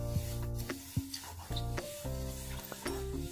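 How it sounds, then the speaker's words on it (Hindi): White sesame seeds dry-roasting and being stirred in a pan over slow-medium heat, with a steady soft sizzle and repeated scraping and clinking strokes of a spoon against the metal, close and continuous. "अब हम इसके अंदर सफेद तिल डाल देंगे। तो इसे भी हमें इसी तरीके से भूनना है, बराबर चलाते हुए 2 से 3 मिनट तक हमें भून लेना है।"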